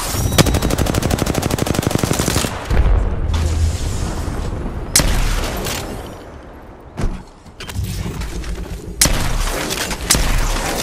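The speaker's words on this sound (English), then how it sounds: "Opening fire." Rapid automatic gunfire from Apex Legends on PS4 Pro, a dense rattling burst followed by scattered loud single shots and booming impacts, close and continuous with no talking.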